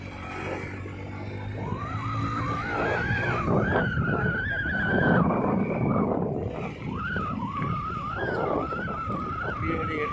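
A vehicle climbs a steep hill road toward the Palamalai Aranganathar temple near Periyanaickenpalayam, Coimbatore, its engine straining in a sustained, wavering whine over a constant rumble and road noise.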